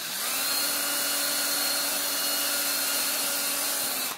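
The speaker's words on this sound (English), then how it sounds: "I'm going to drill through all the way through." Power drill boring holes for a homemade ukulele humidifier, a steady high whine held loud and close without a break.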